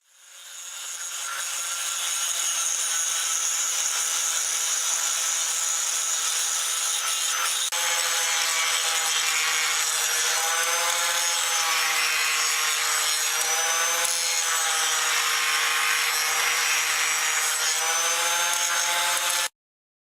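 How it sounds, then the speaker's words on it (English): An angle grinder smoothing the profile of a hand-forged steel dagger blade makes a loud, steady, continuous grinding whine that holds for nearly the whole stretch, with the pitch shifting slightly under load, then cuts off abruptly. "I started cleaning up the profile with an angle grinder"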